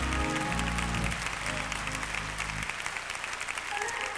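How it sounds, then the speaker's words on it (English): A church congregation applauding a bishop during a service, soft, fairly distant clapping that continues evenly, with a low sustained organ-like tone underneath for the first part. "let me hear you clap your hands"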